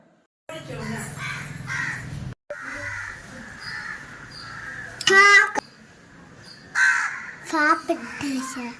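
Crows cawing loudly nearby while eating food offered at a Pongal celebration, several harsh caws in bursts over a steady background tone, with a child and other people speaking.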